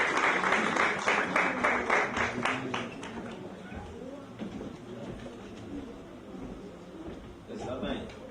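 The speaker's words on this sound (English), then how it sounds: "Let's show gratitude with a round of applause." Applause at a school graduation ceremony, the class of 2024 clapping in sharp, rhythmic bursts at first, then thinning into scattered claps under murmuring voices and talk.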